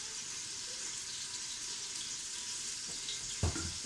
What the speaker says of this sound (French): avec le même saladier dans lequel vous avez mis votre marinade, vous pouvez rajouter l'eau directement pour pouvoir rincer le reste